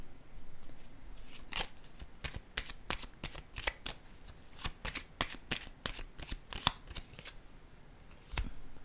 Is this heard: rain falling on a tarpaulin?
no